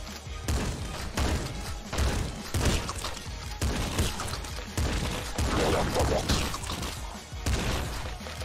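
Rapid gunfire in the top-down shooter game Nuclear Throne, a dense run of loud, punchy shots and thuds firing continuously with brief gaps, close and dominant with no talking.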